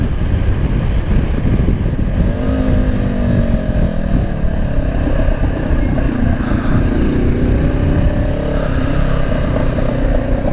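A Honda CB500X motorcycle engine runs loud and steady for the whole stretch, with a rising, throaty pitch as it accelerates and revs, close by with no talking.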